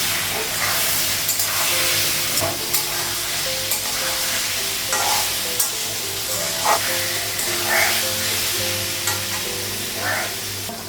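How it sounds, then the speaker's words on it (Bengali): Paneer pieces fry in a pan with steady loud sizzling and hissing, punctuated by repeated stirring scrapes every second or so, close up with no talk. "আর পনিরটা একটু বেড়ে নেব"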